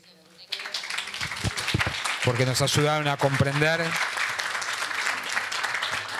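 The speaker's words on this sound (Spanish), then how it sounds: "un aplauso a ellas" Audience at a lecture event applauds in a dense burst of clapping that swells after a short spoken line and continues steadily, with a voice talking over it.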